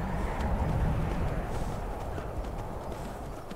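Horse hooves clip-clop in the Skyrim video game, a quick, steady run of close thuds going on throughout with no talking over them.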